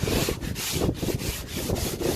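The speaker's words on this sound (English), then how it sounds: "Just cleaning it and then sanding it." Rhythmic rasping strokes of sanding the top of a Pongrass Wave Rider boat, about four per second in a steady back-and-forth, close and loud, with no speech.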